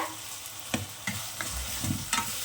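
Chopped onions and tomatoes sautéing for Chettinad crab gravy, a continuous close sizzle broken by several distinct spoon scrapes and taps against the pan, with no talking.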